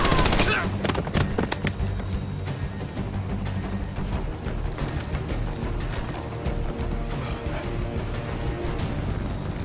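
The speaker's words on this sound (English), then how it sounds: "Tossing a frag!" In the video game Army of Two: The Devil's Cartel, a frag grenade is tossed during a firefight, with dense bursts of gunfire and impacts crackling throughout and a sharp blast early on.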